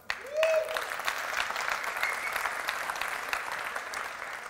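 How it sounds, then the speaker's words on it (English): A room of attendees at a tech meetup gives a round of applause, a burst of clapping that rises quickly and stays dense and fairly close throughout, with a brief tone near the start. "Maybe a round of applause."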